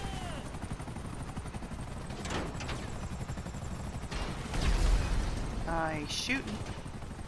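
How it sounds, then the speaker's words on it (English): Helicopters pursuing the player in GTA V Online amid a firefight, with sustained rotor rumble under rapid bursts of gunfire and booms; a voice speaks briefly over the action. "we'll still have quite a few helicopters chasing us for a little while on our way back"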